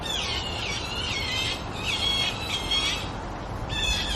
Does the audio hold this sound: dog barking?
no